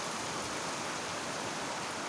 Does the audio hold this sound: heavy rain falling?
yes